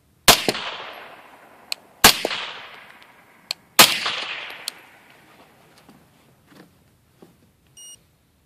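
A three-round string fired through a homemade titanium suppressor: three loud, sharp reports spaced under two seconds apart, each ringing down before the next, followed by a few faint metallic clinks.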